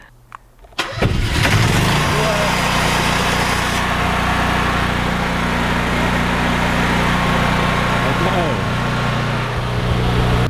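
An off-grid generator engine at a home in Alaska cranks briefly and catches, then settles into a loud, steady running drone close by, while people talk over it.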